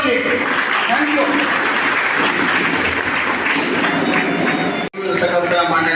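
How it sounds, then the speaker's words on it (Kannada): A crowd at a National Weavers' Day event bursts into loud, sustained clapping that fills the hall, cuts off abruptly near the end, then resumes briefly. "ಜೋರಾದ ಚಪ್ಪಾಳೆ ಬರಲಿ"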